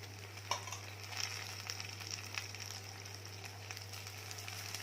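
Cut tomatoes dropped into frying onions, a faint steady sizzle with a few small taps and stirs, quiet and close over a low constant hum.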